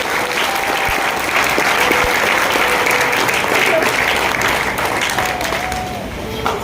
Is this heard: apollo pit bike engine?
no